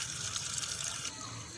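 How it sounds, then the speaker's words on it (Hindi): Pieces of fish being washed under running tap water in a kitchen sink, a steady close gush and splatter that drops slightly in level near the end, no speech. "इसलिए हमेशा जो है फ़िश को खुले पानी में धोइएगा।"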